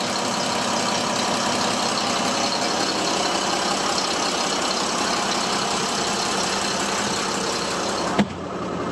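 A bus's large inline six-cylinder engine idling steadily with a low, even rumble and faint knocking, continuous throughout, ending with a brief thump.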